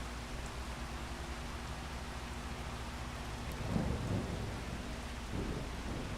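Steady rain hiss with a low thunder rumble swelling around the middle, from a rainstorm in the Farming Simulator 25 video game, heard alone with no talk.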